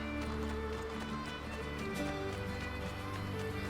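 A horse gallops in the video game Assassin's Creed Brotherhood, faint steady hoofbeats running under a constant layer of game music and ambience.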